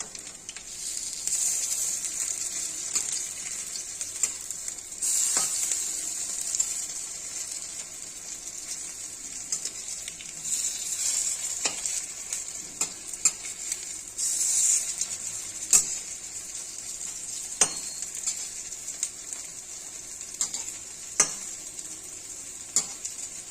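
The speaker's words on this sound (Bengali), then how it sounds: "এবার বড়াগুলো এক এক করে উল্টে দিব" Coriander, coconut and lentil fritters frying on low flame, giving a soft continuous sizzle broken by scattered clicks and scrapes as each fritter is turned, no voices.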